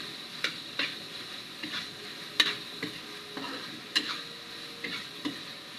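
Garlic and ground meat sautéing in a pan for spaghetti, with a soft steady sizzle under sharp, spaced clicks and taps of a utensil scraping and stirring.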